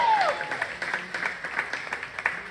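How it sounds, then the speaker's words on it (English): A comedy club crowd at Noble Lounge in Cibolo, Texas claps for the earlier comics, a moderate patter of applause with uneven bursts and a faint whistle at the start. "Give them a round of applause, man."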